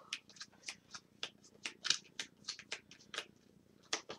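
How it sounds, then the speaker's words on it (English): A deck of cards shuffled by hand at a tabletop board game session, a quick run of crisp riffling flicks and snaps, close and fairly quiet, with no talking. "Again, we'll shuffle these cards up."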